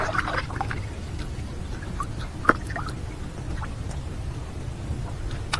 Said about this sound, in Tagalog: Ang ulan dito.